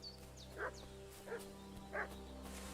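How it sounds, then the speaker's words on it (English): A dog in the video game Kingdom Come: Deliverance barks three times in short, evenly spaced yips over a low steady hum and faint background tones. "What's that dog making such a fuss about?"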